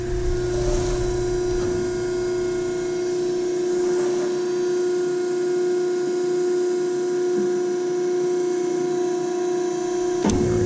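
A Durma plate rolling machine hums steadily as it closes up, a loud continuous tonal drone with faint mechanical creaks and a sharp clank near the end.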